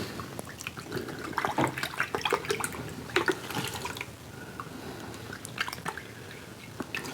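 Water is poured into a pot holding brown sugar, giving a run of irregular splashing and trickling that stays fairly quiet and continues throughout without any talking.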